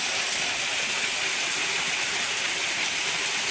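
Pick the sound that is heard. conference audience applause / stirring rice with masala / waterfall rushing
waterfall rushing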